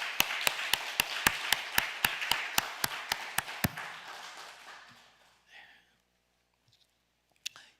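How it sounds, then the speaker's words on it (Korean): A church congregation claps in steady unison, a dozen sharp beats in a regular rhythm that stop abruptly, followed by quiet murmuring and near silence. "우리 하나님께 영광의 박수 올려드립니다."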